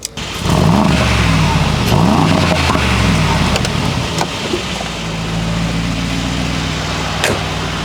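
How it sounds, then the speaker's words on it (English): Loud, deep Mercedes G63 engine revving up in surges close by, then settling into a steady rumbling idle with a few sharp pops. "I like the rumble, and I like the noise of this engine"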